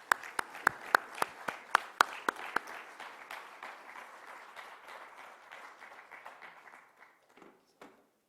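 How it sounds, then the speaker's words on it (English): Conference audience applause in Dubai, opening with a few sharp, loud individual claps before settling into even, moderate clapping from a modest crowd that fades out after about seven seconds. "please give a huge round of applause"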